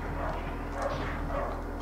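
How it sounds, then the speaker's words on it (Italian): A dog in a video game barks continuously, several quick yaps close by over a steady low game hum, with no talking. "cane di merda che abbaia continuamente"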